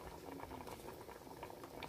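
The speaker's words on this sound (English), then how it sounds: "Look at that beautiful bubbling up, bubbling up." Jamaican red peas soup simmering in a pot, a soft continuous bubbling patter with a brief louder pop at the end, quiet and close.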